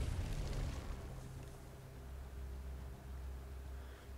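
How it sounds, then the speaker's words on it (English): A grenade goes off in the Arknights game, a loud broad rumbling burst at the start that settles into a low, sustained roar and debris noise for several seconds. "Grenade out!"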